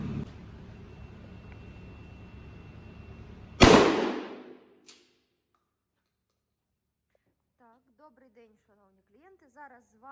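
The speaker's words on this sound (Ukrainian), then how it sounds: "Стріляти будемо з відстані 20 метрів дріб'ю" A single sharp, loud shotgun blast firing birdshot from 20 meters at polycarbonate safety glasses cuts through steady background noise, then fades, followed by near silence and a few distant bird chirps.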